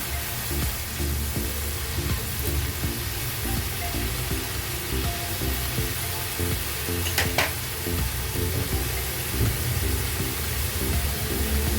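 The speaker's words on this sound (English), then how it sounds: "I'm adding butter." Butter sizzling in a pan while making masala maggi, a loud, close, steady crackling fry with a dense bubbling hiss and a few sharper pops, continuous with no talking.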